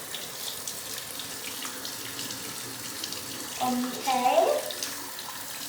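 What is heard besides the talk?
water running from a tap while washing a toy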